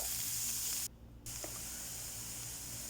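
Crushed ginger, garlic and green chilli sautéing in a spoonful of coconut oil for a Kerala-style chicken samosa filling: a steady close sizzle and hiss that cuts out briefly, then resumes.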